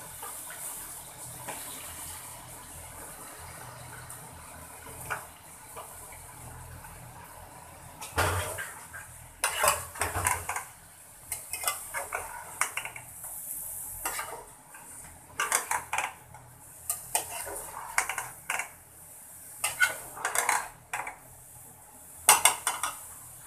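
Bottle gourd goes into a cooking pan at home with clattering utensils, scraping and bursts of clinking and stirring that grow busier and louder toward the end, with a faint watery background.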